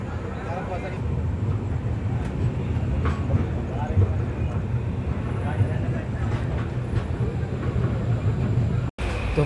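Train 12071, the CSMT Mumbai to Hingoli Deccan Janshatabdi Express, runs on rails with a loud, steady rumble and faint rhythmic wheel clatter, heard close up from on board, with a brief dropout near the end.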